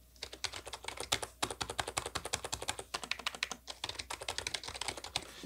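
Quick, close typing on a Roccat Magma Mini keyboard, a quiet membrane board, gives a rapid run of soft, muted key clacks with brief pauses between bursts and no voices.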